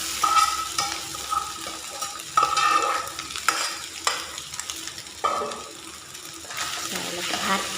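Rice being stir-fried in a pan over medium heat after crispy fried egg, with repeated scraping strokes and steady sizzling in bursts, close up, while a faint voice is heard now and then.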